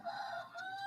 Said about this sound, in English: You can hear the rooster probably in the background.